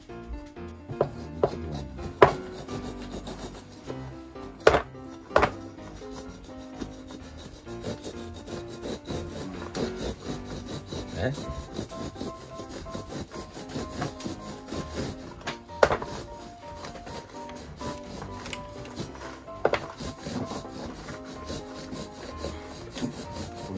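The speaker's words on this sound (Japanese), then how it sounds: "ノコギリでしょ" A hand saw rasps through a motorcycle seat in repeated back-and-forth strokes, with occasional sharp knocks and clacks over the steady rhythmic cutting.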